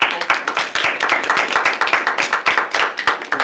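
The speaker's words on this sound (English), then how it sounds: "A nice round of applause" People at a student senate general assembly give a round of applause, a brisk, close burst of many hands clapping that holds steady throughout.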